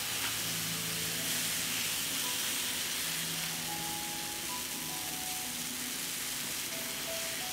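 Crepe batter meeting a hot oiled pan gives a continuous broad sizzle and hiss, steady and close throughout, with faint faint tonal hum in the background.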